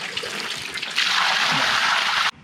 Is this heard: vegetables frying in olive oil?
no